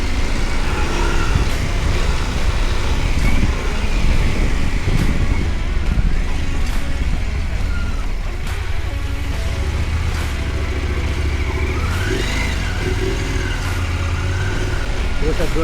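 A Norden 901 Expedition motorcycle rumbles along a wooded trail, its low engine drone steady and close throughout, with wind noise and people talking over it.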